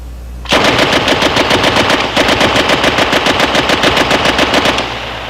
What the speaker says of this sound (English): Let's see and hear how this World War II era weapon shoots.